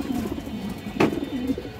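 Lively pigeons cooing in low, rolling murmurs close by, with a brief sharp flutter or knock partway through and no talking.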